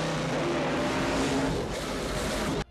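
A race car engine roars in a Tom Cruise racing film, a loud sustained motor drone with a steady pitch, filling the scene for a few seconds before cutting off abruptly.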